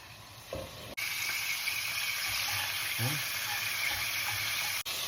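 Prawns, parsley and salt sizzling in hot oil in a pan, a steady broadband hiss running throughout with a brief stir or clink near the start, close and fairly loud.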